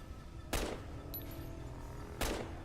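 Two sharp gunshots ring out a second and a half apart in a Fallout video game, each a loud crack with a brief ringing tail over a quiet ambient bed.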